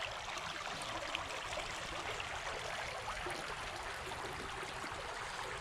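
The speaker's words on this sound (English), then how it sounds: "the water's moving so much and the rocks are slick" Fast-moving creek water rushing over slick rocks in an inner-city stream, a steady, loud broadband wash that runs continuously and close by throughout, with no talking.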